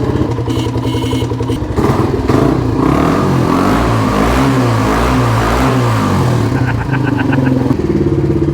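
A Kawasaki KLR dirt bike engine runs steadily up close and loud, with a harmonic idle that rises into a couple of revs mid-clip before settling back to a rough, clattering idle.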